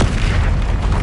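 An Incendio fire spell blasts in Hogwarts Legacy, a single loud, dense booming burst of fiery roar filling the whole moment, close and heavy.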